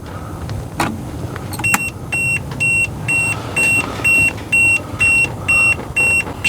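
A multimeter beeps while a GFCI outlet is tested for continuity between ground and neutral, giving a run of evenly spaced, fairly loud electronic beeps after a few clicks and knocks.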